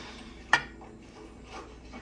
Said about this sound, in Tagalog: Haluin natin yung aking chocolate.